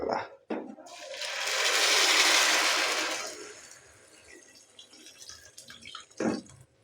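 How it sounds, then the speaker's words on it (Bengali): Milk poured from above into a heated pot on the stove makes a loud, close rushing splash for a few seconds, then fades to a faint simmer with a couple of clunks. "এই যে গরম হয়েছে এখন অলপ উঠবে তো এখনই ঢেলে দেবো দুধটা"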